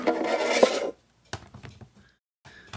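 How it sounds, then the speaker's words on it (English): A small Kaiweets screwdriver unscrewing a box: a close, gritty rasping turn lasting under a second, then a few sharp little clicks and taps with brief pauses between them. "we will turn to our little Kaiweets screwdriver."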